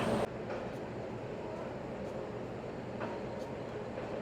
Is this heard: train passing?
yes